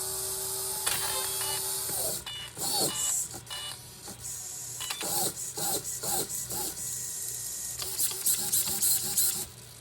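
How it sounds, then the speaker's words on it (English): The stripped steering servo of a Losi LMT monster truck whirs and grinds in short, irregular mechanical bursts, close and fairly quiet, with brief gaps between. "Must have stripped out the servo."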